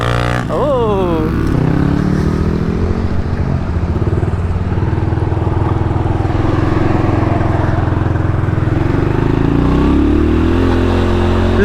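An upgraded 6000W Razor RSF electric dirt bike being ridden, its motor whining steadily and close, with wind rushing over the mic and a brief rising squeal near the start.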